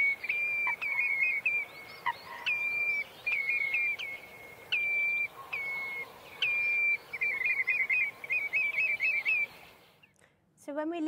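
Repeated bright, whistled bird calls in quick trilling phrases, fairly close and clear over a soft background hiss, ending abruptly.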